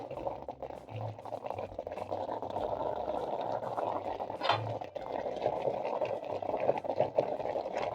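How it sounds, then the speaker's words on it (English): Kenyan chicken tumbukiza soup with spinach simmering in a covered pot, a steady low bubbling that runs throughout, faint and even, with a couple of soft thumps. "Make sure the spinach is fully submerged in the soup. Cover and simmer for 3 more minutes."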